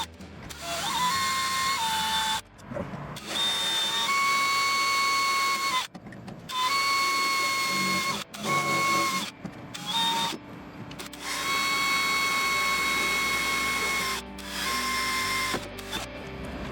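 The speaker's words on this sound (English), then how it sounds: "So we're gonna drill this out and then get ready to put the new one in." A power drill whining at high speed in long, loud bursts, drilling out a rivet on a Genesis Coupe door speaker, stopping and restarting several times, close up with no talking.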